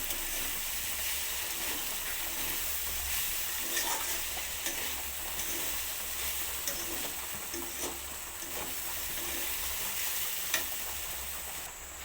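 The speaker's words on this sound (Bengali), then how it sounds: "মাঝে মাঝে একটু নাড়াচাড়া করে দেবো নাহলে তলায় লেগে যাবে" Pumpkin and potato pieces frying in a pan with chilli powder, a steady close sizzle with occasional scraping stirs of a spatula against the pan, no talk.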